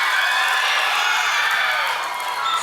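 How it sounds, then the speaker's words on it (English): School chapel audience of students cheering and clapping for their teachers, a dense, loud roar of shouting and whoops over continuous applause, sustained throughout. "Give me a loud shout and clap if you love your teachers."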